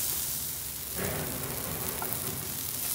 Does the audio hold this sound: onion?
yes